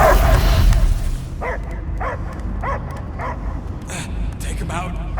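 A dog barks in short, evenly spaced yips and woofs in the Guardians of the Galaxy video game, following a loud opening burst of game sound and continuing under a low background hum.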